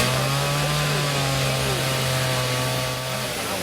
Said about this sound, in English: the person you're watching would usually use that chainsaw on a tree